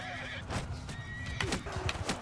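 Cavalry horses neigh in the Amir Timur Bandit Kingdom campaign of a strategy game, a couple of sharp whinnies over scattered hoofbeats and battle clatter, fairly close and without talk.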